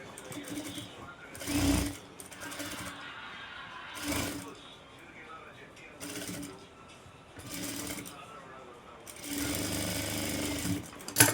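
A sewing machine stitching a golden blouse front runs in several short, rapid whirring bursts separated by pauses, close and fairly loud, with a person talking quietly between the runs.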